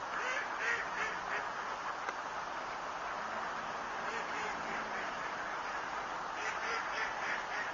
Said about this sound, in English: there are a lot of ducks here